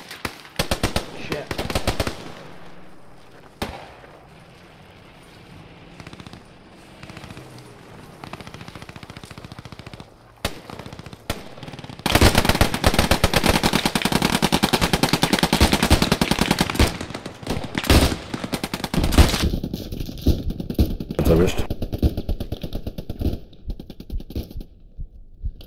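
Gunfire in the World War II shooter game Post Scriptum: dense, loud machine-gun bursts and single rifle shots crackle almost continuously near a forest, with a heavy sustained barrage in the middle stretch.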